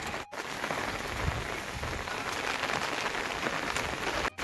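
Heavy rain falls steadily on a surface in a forest, a constant close patter and hiss with no voices, continuing the whole time.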